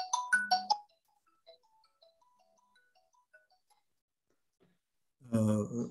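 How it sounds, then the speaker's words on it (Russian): A phone ringtone plays a short, bright melodic burst of tones, then continues as a faint sequence of notes before a voice starts speaking. "Там звонит Юрий Иванович Сирош"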